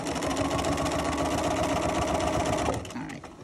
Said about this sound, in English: And just stitch away on that first piece.